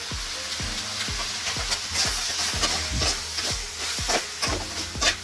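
Garam masala and spices are stirred into frying pork for a spicy Bengaluru-style pork fry, with a steady sizzle broken by repeated rhythmic scrapes of a spoon across the pan.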